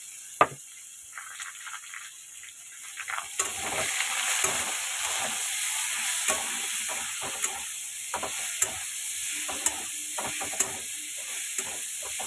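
Chopped onion and tomato frying in a pan, starting quietly and then breaking into a loud steady sizzle with repeated scraping and clicking stirs, close and without talking.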